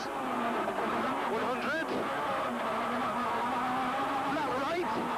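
A rally car on a gravel stage at the Circuit of Munster Rally, its engine loud and close with rising and falling revs and gear changes throughout, while a voice talks over it.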